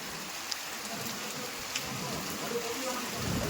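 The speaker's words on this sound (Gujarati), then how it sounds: "ભાણવરમાં આજ પણ પાછો વરસાદનો શુભારંભ થઈ ગયો" Steady rain falling in Bhanvad, a soft continuous hiss with a few scattered drop ticks, fairly faint and even, with no voices over it.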